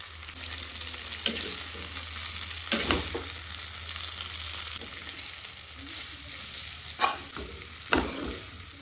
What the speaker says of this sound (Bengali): এখন এই যে চাউমিনটা দিয়ে দেবো।